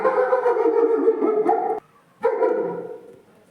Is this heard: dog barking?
yes